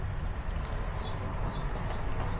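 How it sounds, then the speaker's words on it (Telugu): Birds chirping in the early morning at a rainy campsite in Korea, small high tweets repeating over a constant heavy wash of rain-like noise. "పక్షులు పొద్దున్నే లేపినాయి నన్ను, చాలా తొందరనే లేపినాయి పక్షులు."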